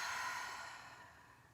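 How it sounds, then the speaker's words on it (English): A single long exhale released during a yoga breathing exercise, a soft breathy rush that starts fuller and slowly fades, close and quiet with no talking. "and exhale, let it go"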